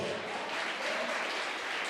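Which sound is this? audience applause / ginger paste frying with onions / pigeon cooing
audience applause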